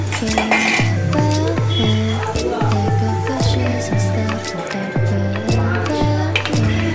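A metal spoon scrapes and clinks rhythmically against a kadai as sun-dried potatoes are stirred and fried, with repeated ringing knocks and a little faint talk.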